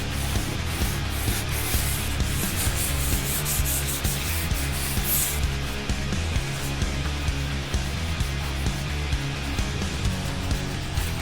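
Continuous rhythmic sanding of a 1:350 plastic Enterprise model saucer, a dry scratchy rubbing repeated in quick strokes, close and steady with no talking.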